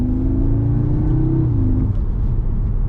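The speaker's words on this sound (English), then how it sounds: "that sounds very much like a 5-cylinder lump, so I think that's being piped around the cabin" Audi S3 hot hatch engine note piped into the cabin, resembling a five-cylinder, a steady loud drone with a rising then falling rev over a few seconds, no talking.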